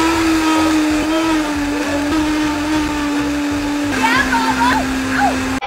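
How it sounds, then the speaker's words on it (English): A kitchen blender whirs steadily while mixing banana, local honey and powdered cacao for vegan fudgesicles, a loud close motor drone whose pitch shifts slightly as the mixture churns. "And then we do the blender dance."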